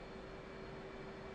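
Aircraft engine in DCS World spooling up in the background, a steady low hum with a faint tonal whine holding level throughout the short stretch.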